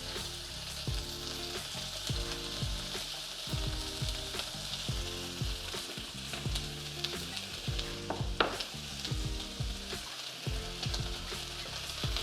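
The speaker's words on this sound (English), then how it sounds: "We just let it sear for 30 seconds, 40 seconds before moving it." Duck pieces sear in a pan with only a tiny amount of oil, giving a steady, close sizzle and crackle with scattered sharp pops and spatters throughout, and no talk over it.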